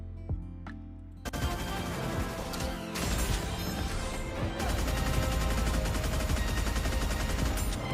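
Regular shooting of a NIKKE character in the video game, a relentless machine-gun-like stream of rapid gunfire, loud and continuous after a few opening shots, with no talking.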